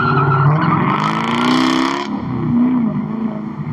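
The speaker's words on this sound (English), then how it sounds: "he just did that so he could slam on the brakes" A car skids hard under heavy braking, a loud sustained tire squeal with engine noise running for about two seconds before easing into a lower rolling rumble.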